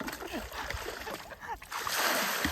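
River water is scooped and poured with a dipper, giving close splashes and gurgles with voices talking over them.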